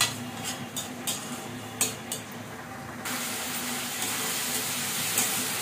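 Potatoes frying with spices and red chili powder in a pan, a steady broadband sizzle that steps up louder partway through, with a few faint scrapes and clinks of utensils early on.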